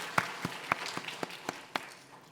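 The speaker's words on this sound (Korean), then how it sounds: "무한덕 되신 하나님께 영광의 박수 올려드리겠습니다" Sparse, uneven hand claps from a church congregation, a handful of separate sharp claps spaced out over a couple of seconds, fairly quiet with no talking.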